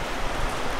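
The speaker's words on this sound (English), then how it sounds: "It's been raining really bad outside" Heavy rain heard from inside a moving car, a dense, steady hiss of water noise with no pauses.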